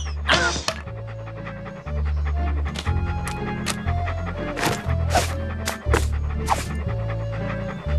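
A dog pants steadily in Monkey Island 2, the quick breathy huffs running through most of the stretch over a low droning game music bed and scattered sound effects.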